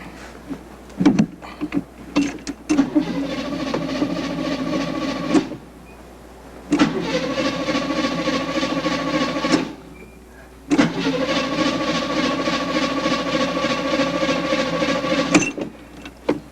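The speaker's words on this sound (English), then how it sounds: "the car just went dead" A dead car engine is cranked over again and again in three long, droning bursts with pauses and small clicks between, never catching and running.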